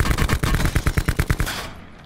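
Rapid automatic gunfire from Call of Duty Blackout, a loud sustained burst of evenly spaced shots that speeds into a rattling stream before cutting off and fading out.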